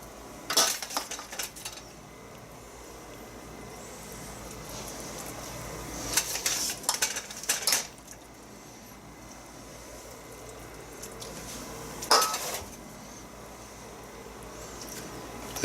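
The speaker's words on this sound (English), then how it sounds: "So, nice big scoop of pulled pork on each one." Serving spoon clinking against a pan and scraping as big scoops of pulled pork are piled onto sandwiches, in three short bursts of metallic taps and scrapes with quiet pauses between, close and fairly soft in a home kitchen.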